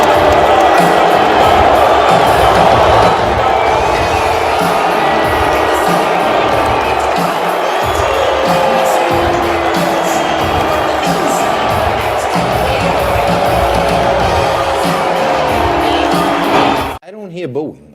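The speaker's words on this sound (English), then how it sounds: "I hear a mixed smattering of cheers" A large arena crowd at a mixed martial arts bout makes a loud, continuous roar of mixed cheering that lasts nearly the whole time and then cuts out abruptly near the end.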